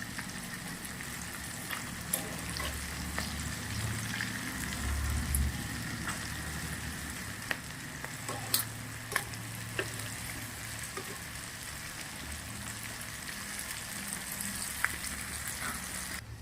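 Stuffed green chillies fry in oil on a low flame, a steady soft sizzle throughout with occasional sharp clicks and taps as they are turned in the pan.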